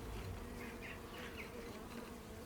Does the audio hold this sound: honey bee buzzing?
yes